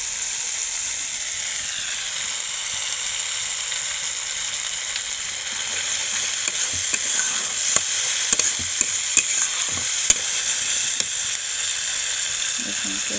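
Spice paste frying in oil in a pan, a steady hiss with sparse clicks and light taps of a spoon, growing slightly busier toward the end, close and continuous, with no talk.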